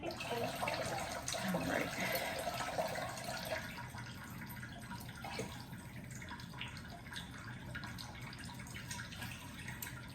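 Water pours into a pot of veggie gumbo in a home kitchen, a steady splashing stream that is loudest at first and then settles into a softer trickle, with a brief spoken word.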